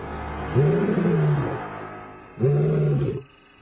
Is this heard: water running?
no